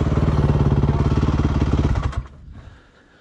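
A motorcycle engine runs close and loud with a rapid, even pulsing beat for about two seconds, then cuts off abruptly, leaving quiet.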